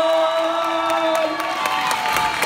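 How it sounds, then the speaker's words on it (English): Crowd at a fourth-grade school graduation cheering and applauding its award winners, a steady dense roar of clapping and shouts with whoops and children's voices throughout. "Let's give a round of applause for all our award winners"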